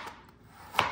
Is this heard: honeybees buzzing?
no